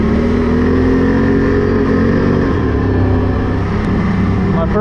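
Engine of a 2021 Can-Am Renegade XMR 1000 ATV while riding, a loud, steady, close drone with a low rumble and slight shifts in pitch, running without a break under wind.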